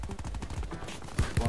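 Rapid gunfire in a shooter video game, with quick bursts of shots at a steady rhythm and two sharper, louder reports near the end, mixed with faint game sounds.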